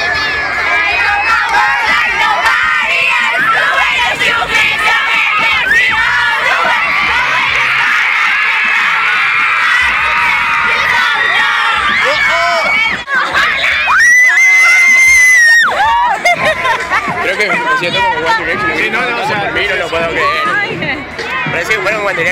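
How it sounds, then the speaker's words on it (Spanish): A large crowd of One Direction fans screams loudly and continuously, with shrill cheering that swells into a piercing peak partway through before settling back into sustained shrieking and babble. "Mira cómo gritan."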